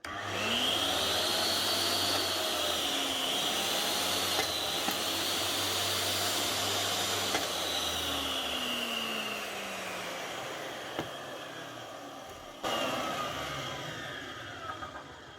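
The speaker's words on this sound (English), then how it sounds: "one DeWalt DW777 sliding compound miter saw, new lead fitted and rails tightened up. That's her now." DeWalt DW777 sliding compound miter saw, freshly repaired with a new lead and tightened rails, running continuously nearby with a steady loud whine that eases slightly toward the end.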